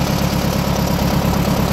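Allis-Chalmers UM engine on a 1934 Allis-Chalmers M crawler idling, a loud, steady low mechanical chug with an even rapid pulse and no voices.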